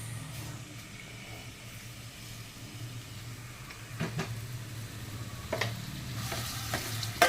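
Onions, chillies and tomatoes sizzle steadily in a pan on a stove flame while a spoon stirs and scrapes through them, with a few louder clinks toward the end; no voices.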